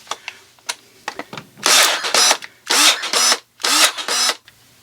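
Dewalt cordless pruning shears run in three loud motorized bursts, each a whirring buzz lasting about half a second, preceded by a few sharp clicks and quiet handling sounds.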